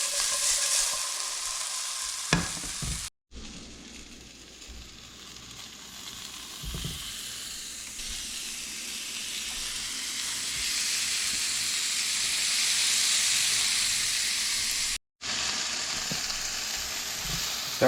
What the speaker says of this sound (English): Got a few onions frying here now.